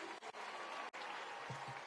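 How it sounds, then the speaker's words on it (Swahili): A crowd claps and applauds for the president at an outdoor gathering in Turkana, Kenya, a steady, dense wash of hand claps that continues with only brief dips throughout. "Hebu pigeni rais makofi."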